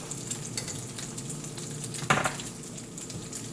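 Eggs frying in a pan over lower heat, giving a steady close sizzle with light crackle and one brief louder scrape or pan knock midway, no voices.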